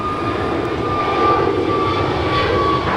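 A three-year-old American Airlines Airbus A321neo jet roars past at LAX, a loud, steady engine drone with a sustained whine throughout, no voices.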